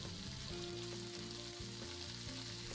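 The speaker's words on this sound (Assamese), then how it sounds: "অকণমান বেছি সময় আমি পিঁয়াজ আৰু মাংসখিনি একেলগে লৰাব লাগিব।" Onions and mutton sizzle steadily in a pan while being stirred for an Assamese mutton curry, a constant close frying hiss with a steady tone running beneath it and no voices.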